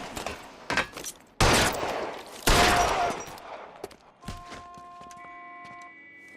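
Gunfire in L.A. Noire: several sharp gunshots followed by two long, loud bursts of rapid fire, then scattered thuds and a ringing tone fading out, no speech.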